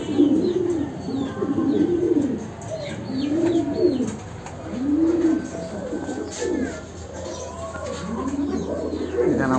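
Pigeons kept indoors coo in repeated, rounded low calls, several birds overlapping nearby, with faint chirps in the background and no talk.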